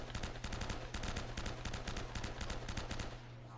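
Rapid automatic gunfire in Uncharted: Drake's Fortune, a steady stream of sharp, closely spaced shots repeating for several seconds with no talking over it.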